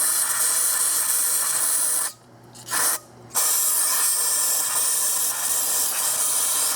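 Brake cleaner sprayed onto an intake part of a 2001 Infiniti QX4 during engine teardown cleanup, a loud close hissing spray interrupted by two short pauses before resuming steadily.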